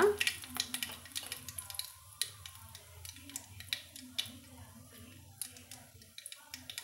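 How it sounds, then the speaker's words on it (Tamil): Mustard seeds crackling and spluttering in hot oil alongside a broken dried red chilli, sharp scattered pops over a soft sizzle, close up, with a voice speaking at times. "நம்மளுக்கு கடுகு வெடித்து பொரிஞ்சு வருதுங்க"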